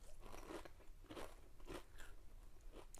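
Crisp, close crunching of thick Boulder Canyon kettle-cooked potato chips, several bites in a steady rhythm, with no talking.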